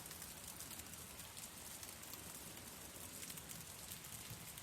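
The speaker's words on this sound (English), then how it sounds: "Earlier today, it rained. So I stepped outside and recorded what you're hearing now." Steady rain falls outdoors, a dense, even hiss of drops striking surfaces that continues without a break at moderate, fairly soft loudness, with no voices or other sounds over it.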